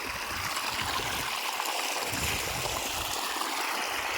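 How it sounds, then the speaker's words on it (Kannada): Water pours steadily out of an irrigation pipe on a farm, a continuous close rushing and trickling flow with no speech. "ನೋಡ್ರಿ ಇಲ್ಲಿ ನಡ್ದಾವ ನೀರು ಈ ಕಡೆ ಬರ್ತಾವ"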